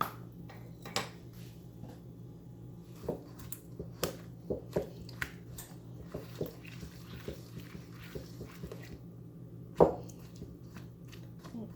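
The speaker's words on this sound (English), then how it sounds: "1/2 cup of butter, 1/2 cup of brown sugar. Let's give that a stir." Butter and brown sugar being stirred together in a bowl for a blackberry crisp: soft, scattered squishy scrapes and light spoon taps, quiet and close, with one sharper knock near the end.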